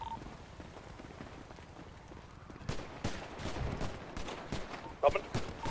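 Gunfire in a video game police shootout, a burst of sharp shots and rapid fusillade cracking at moderate distance while players talk over the action.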